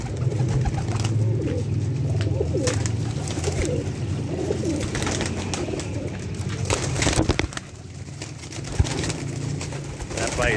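Teddy pigeons on a rooftop coo in soft, repeated low calls under steady outdoor background noise, with people talking intermittently nearby.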